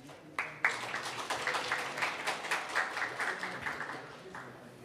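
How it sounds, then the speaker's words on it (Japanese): A conference audience applauds to welcome a Python conference speaker, a soft, distant patter of many hands that starts abruptly, holds steady, then tapers off near the end. "それでは安本さんを拍手でお迎えください。"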